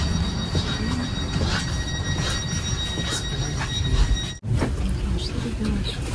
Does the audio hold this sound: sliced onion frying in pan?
no